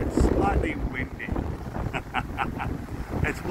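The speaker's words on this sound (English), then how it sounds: "It's slightly windy." Wind blowing across the shore of Lake Victoria at Loch Sport, Australia, a steady broadband rush with gusts and faint splashing of water, continuous throughout.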